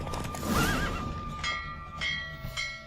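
A horse whinnies loudly and close during a race in The Witcher 3, a rising, wavering neigh, followed by a few sharp in-game chimes and faint hoof clatter.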